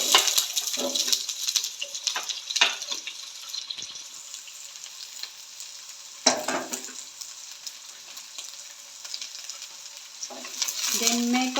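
Onion, garlic and ginger fry in a pan while being stirred, giving a steady hiss with scraping spatula strokes and a few louder clatters.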